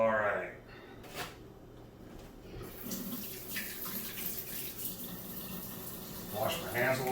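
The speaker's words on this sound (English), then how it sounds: "Wash my hands a little bit." Water from a kitchen tap runs steadily for several seconds while someone washes their hands, a soft close splashing with light clatter and a brief voice near the end.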